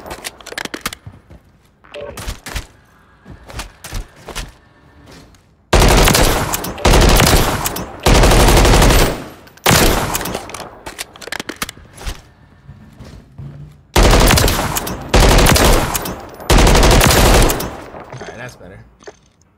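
Rapid automatic gunfire fills a Search and Destroy video game match, with several long, loud bursts broken by short gaps and quieter stretches of lighter shots and game noise.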